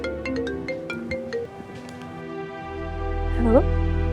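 A telephone ringtone plays a bright electronic melody of repeated notes, close and clear, with a low rumble building underneath toward the end.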